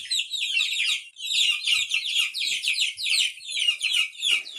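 A room full of baby birds chirps in a busy overlapping chorus of high, shrill peeps that rise and fall in quick bursts.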